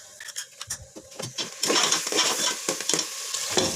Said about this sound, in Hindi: लहसुन डाल के मैंने गोश्त को इस तरह भून लिया।